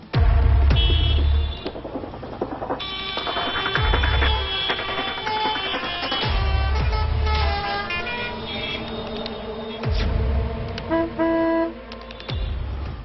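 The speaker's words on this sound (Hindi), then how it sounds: "रात दिन दौड़ती भागती सड़कें, बेशुमार गाड़ियां, बेहिसाब शोर।" Steady roar of heavy road traffic with repeated car and truck horns honking near and far, some long blasts, no voices.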